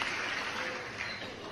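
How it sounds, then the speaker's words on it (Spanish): Applause for the production crew at a costume party themed on movie characters, a steady broadband wash of clapping that fills the whole moment with no clear pauses, moderately loud and close. "Aplauso para la producción."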